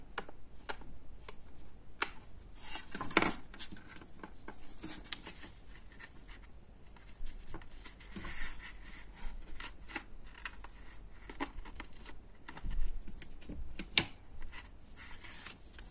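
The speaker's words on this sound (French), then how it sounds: "Mon scotch est passé, donc je vais recouper le scotch." Scissors cutting adhesive tape while putting together a scrapbook mini album: quiet, close snips and crinkles of the tape, with small handling clicks and rustles scattered irregularly throughout.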